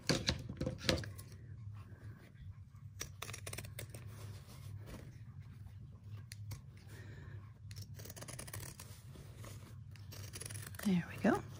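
Scissors snip through fabric while a clematis sewing project is trimmed around a tough corner, giving faint crisp cuts close by over a low steady hum, with a louder cluster of snips near the end.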